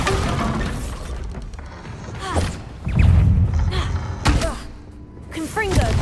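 Bombarda spell blasts in Hogwarts Legacy land as heavy booming thuds with crashing debris, several impacts spread across a busy game fight, with a voice calling out amid the explosions.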